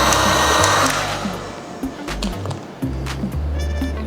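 A heat gun blows hot air while vinyl wrap film is worked around a rounded corner, a strong airy whoosh that softens partway through, with intermittent low whirring and faint handling noises.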